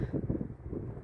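Gusty wind buffeting outdoors in fresh snow, a steady low rumble of air close to the microphone with no other sound.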